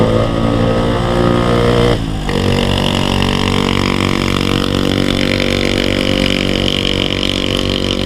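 A motorcycle engine drones loudly and continuously while riding on a touring route near Cianjur, a dense steady rumble with a brief dip around a gear change, then holding on.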